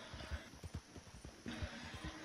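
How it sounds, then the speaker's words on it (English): Quick rhythmic hoofbeats of a horse galloping in the Red Dead video game, moderately close, with a brief whinny partway through and no talking. "Is your horse even catching up?"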